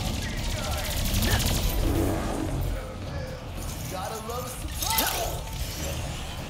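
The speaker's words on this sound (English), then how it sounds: "Yep, real bullets." Real gunfire breaks out in Ratchet and Clank Rift Apart, rapid bursts and whooshing shots crackling over game music and effects, with voices talking over the action.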